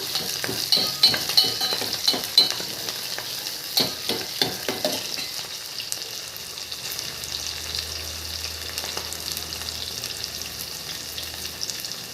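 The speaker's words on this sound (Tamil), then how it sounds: "நல்லா வெங்காயம் வந்து வணங்கட்டும்" Onions sautéing with curry leaves in a pan for thorny nightshade gravy, a bright continuous sizzle with a run of sharp spatula scrapes early on that thin out, leaving the hiss alone.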